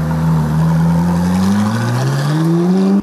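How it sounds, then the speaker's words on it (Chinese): A supercar's engine roars loudly and close as the throttle is pressed, the pitch climbing steadily over a few seconds before cutting off abruptly. "油门一催"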